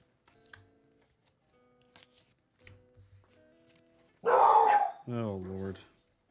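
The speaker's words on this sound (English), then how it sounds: "My dogs are protective." Protective dogs indoors let out a loud burst of barking near the end, preceded by faint scattered indoor sounds and quiet tones.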